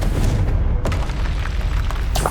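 Explosive spells such as Bombarda and Confringo cast in the video game Hogwarts Legacy: a dense, continuous barrage of booming blasts and crackling bursts, loud and sustained throughout, with a sharp hit near the middle.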